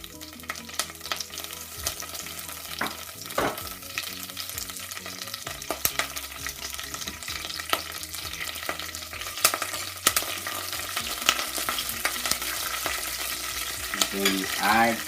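Curry leaves frying in hot oil in a pan during Indian chicken curry preparation, a steady loud sizzle with crackling spits and occasional stirring scrapes throughout, no talking.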